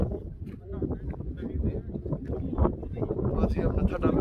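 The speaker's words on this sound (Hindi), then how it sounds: "कुछ हमारे भाई साहब पे हवा चल रही है।" Wind gusting across the exposed Natha Top mountain pass at about 8,700 feet, a steady broadband roar with buffeting on the microphone that grows stronger toward the end, with people talking faintly underneath.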